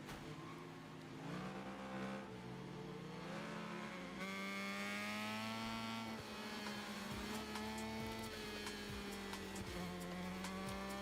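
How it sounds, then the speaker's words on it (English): Racing motorcycle engines from Honda and Aprilia bikes in the RIDE 6 racing game, continuous loud revving and shifting engine notes rising and falling through gear changes, with a brief cut partway through and no talking. "you can hear the different bikes all have their own, you know, distinct personality in terms of the engine note"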